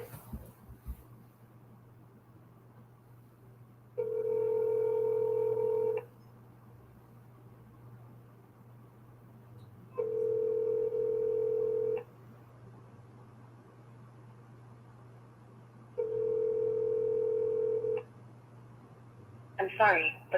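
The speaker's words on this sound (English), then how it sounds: "it's ringing now" A telephone ringback tone purrs three times at regular intervals, each burst about two seconds long, over a low steady hum.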